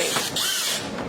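A power tool whirs briefly as it drives a screw into the front splitter of a 2023 Corvette C8 Z06, a short, close, rising-and-falling motor whine.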